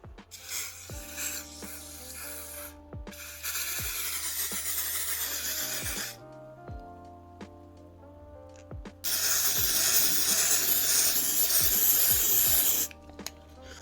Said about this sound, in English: So what you're going to do now is you're going to spray on your hairline.